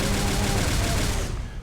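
Doom Cannon firing in the game Metroid Doom, a dense, loud burst of rapid gunfire-like blasts that fills the sound, then cuts off abruptly.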